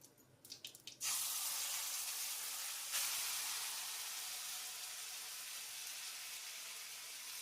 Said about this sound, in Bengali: এখন দিয়ে দিচ্ছি বেটে রাখো মশলাটা।